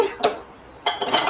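A metal kadai knocks down onto a stove with a short clatter, followed by a pause and more scraping, clanking kitchen sounds.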